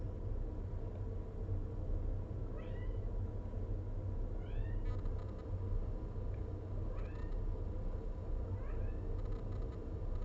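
A kitten meows repeatedly, four or five short, quiet chirping calls spaced a couple of seconds apart, heard faintly over a constant low rumbling hum.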